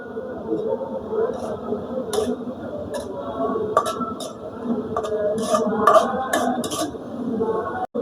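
Spice mix being stirred and fried in a metal pot while cooking beef in a village setting, with repeated light clinks and taps of a spoon against the pot over a steady low background.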